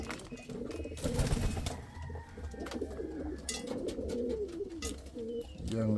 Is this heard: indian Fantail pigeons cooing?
yes